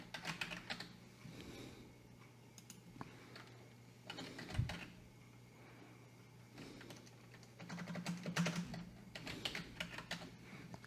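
Computer keyboard keys tapped while a password is typed, coming in irregular bursts of quick clicks with short pauses between them, close and fairly quiet, with no talking.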